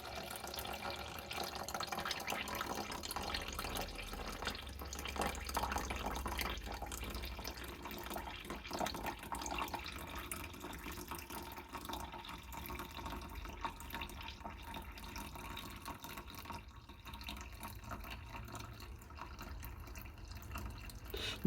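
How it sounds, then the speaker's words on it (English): Homemade bone broth is poured slowly from a pot, giving a faint, continuous trickling liquid sound with soft splashes, steady and quiet for about twenty seconds. "I'm just pouring this very slowly because there is some residue down the bottom there"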